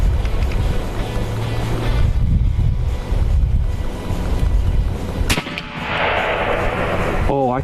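A 30-caliber AEA Challenger bullpup air rifle fires outdoors at steel plate torso targets: a single sharp crack cuts through a windy, rumbling background, followed by a brief ringing tail.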